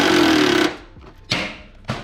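A Milwaukee impact wrench drives a bolt back in on a 1998 Subaru Impreza 2.5RS during fender removal. One loud sustained burst of rattling hammering, then two short sharp bursts after a brief pause.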